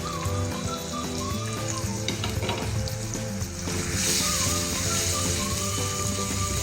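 Ground turmeric, chili and coriander powder with fish spice mix tumble into pangasius frying in oil, setting off a steady, close sizzle that swells slightly toward the end, with faint scraping and light background noise.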